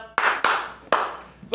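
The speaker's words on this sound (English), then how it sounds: "You may clap." Prisoners clapping: four sharp, separate claps spaced unevenly over a moment, close and distinct against quiet.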